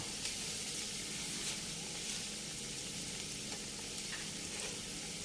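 Bamboo shoots and eggs stir-frying in a pan, a continuous soft hissing sizzle with occasional faint scrapes of stirring, fairly quiet and without talk.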